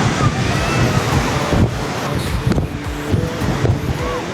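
Strong sea wind at a Pondicherry beach roars steadily and buffets the microphone, with surf rumbling underneath and faint voices in the distance.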